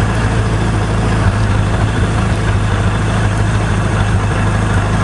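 A 1988 Voyager motorcycle engine idles close by with a loud, steady low rumble that holds unchanged throughout, with no talk over it.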